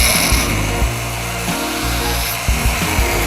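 A high-speed rotary tool grinds and whirs steadily while carving bone into a dolphin shape, with brief shifts in pitch as it presses and lifts.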